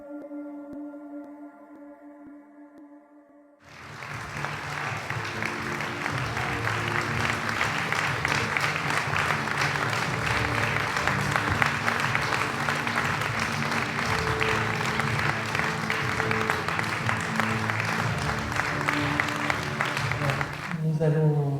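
Audience applause at a French film presentation erupts after a brief musical passage, a dense, steady wash of clapping that fills the room for many seconds before fading.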